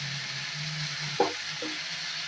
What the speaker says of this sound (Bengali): আলুগুলো আর পেঁপেটা এখন খুব ভালো করে ভেজে নিয়েছি